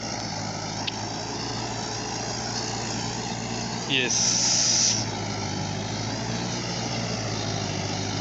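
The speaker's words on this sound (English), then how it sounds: "here you can see the tractor is already been plowing the land." A tractor preparing a rice field drones with a steady engine hum in the background. A brief high hiss cuts in midway, and a person speaks over the noise.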